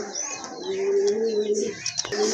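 Big German Shield pigeons coo in a steady, close, low rolling call that runs nearly unbroken, with a few faint chirps above it.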